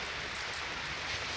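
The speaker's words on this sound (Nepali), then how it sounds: "एकदम पानी पर्न स्टार्ट भयो आज मार्च 2 तारिकदेखि" Soft, even patter of rain just beginning to fall, a faint continuous hiss of drops on surfaces with no voices.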